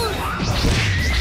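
Swift whoosh effect in an animated fight scene, a single short swish of air sweeping past, loud and up front, lasting about a second with no talking.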